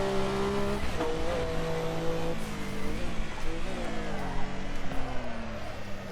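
A Porsche 962C race car in Assetto Corsa screams through a banked corner at the Nordschleife, engine note rising and falling with gear changes, loud and continuous with brief tire noise.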